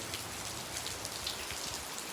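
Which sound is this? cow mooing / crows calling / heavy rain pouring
heavy rain pouring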